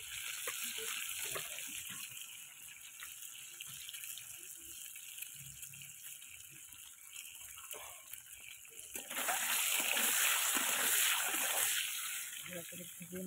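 A boiled egg frying in oil with turmeric: a soft, steady sizzle that swells into a louder, fuller hiss toward the end, with a faint voice underneath.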